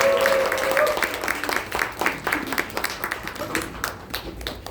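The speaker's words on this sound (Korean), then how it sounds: "정말 너무 수고해주신 우리 한상수 리더님께 다시 한번 큰 박수 보내드리고 싶습니다" An indoor audience at a business presentation claps together, a steady, close patter of hand claps that thins out and fades toward the end.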